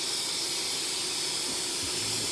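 Krylon spray lacquer hissing from a can onto a bathroom countertop and its molding, with a fan running: a steady, close airy spray that sounds without pause for the whole stretch, with no talking.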